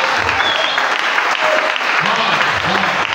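A crowd at a church gathering applauding and cheering loudly and continuously, with voices shouting over the dense clapping.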